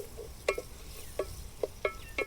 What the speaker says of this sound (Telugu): ఇప్పుడు ఇలా వేసుకుని ఈ మసాలాలు అలాగే ఉల్లిపాయ ముక్కలు ఒక రెండు నిమిషాల పాటు బాగా మగ్గిలిస్తే